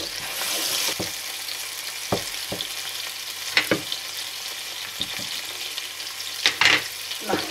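Sliced onion, potatoes and green pepper sizzle steadily in a frying pan, with sharp scraping and clacking bursts each time the vegetables are stirred.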